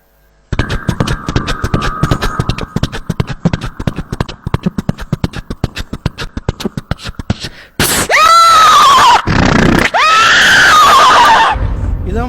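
A mimicry performer uses his voice to imitate a horse being ridden at speed: a long run of rapid, crisp clip-clop clicks, then loud, wavering whinnies and neighs, all close and alone.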